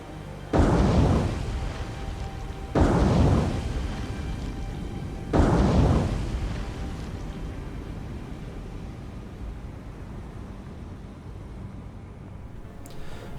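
Three torpedo hits explode against the battleship South Dakota in the naval game War on the Sea, each a loud deep boom a few seconds apart, trailing into a long rumbling hiss.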